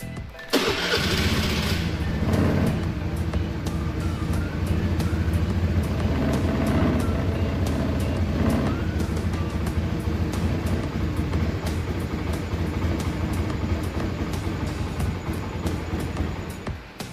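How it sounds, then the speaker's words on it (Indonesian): A motorcycle engine starts with a loud burst and keeps running in a steady, droning idle close by during a fuel pressure test, the sound holding level throughout with no talking. "Hidupkan mesin sepeda motor hingga mesin mati dengan sendirinya."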